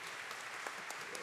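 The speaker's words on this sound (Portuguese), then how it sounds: "Pedir uma salva de palmas também para a Operação Presente" A crowd at a public debate claps steadily, a dense patter of applause at moderate distance, brief and continuous.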